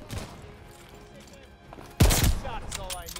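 A single loud, sharp sniper rifle shot cracks out in the Call of Duty Vanguard video game after a quieter stretch of game ambience, with a short trailing echo and faint game sounds following.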